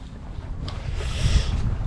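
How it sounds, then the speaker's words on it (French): Wind gusting over a sailboat at sea off the Mediterranean coast, a low rumbling rush that swells toward the end, with buffeting noise on the microphone. "le vent se lève un peu"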